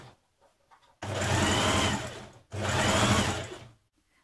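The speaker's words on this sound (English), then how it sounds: "you're going to stitch it in place" A sewing machine runs two steady bursts of stitching along a dress seam, the second following a brief pause, close and fairly loud with no voices.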